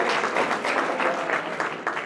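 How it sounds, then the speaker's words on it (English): Sustained applause from an audience at a live fundraiser greets helpers arriving on stage, a steady dense clapping that fills the whole moment without pause. "Let's give them a round of applause."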